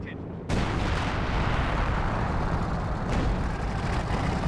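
Company of Heroes long-range artillery barrage: a sudden burst of heavy, roaring, continuous bombardment with booming impacts, loud and sustained.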